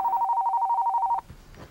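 A telephone rings with one rapid warbling electronic trill lasting about a second, close and clear, before quieter rustling.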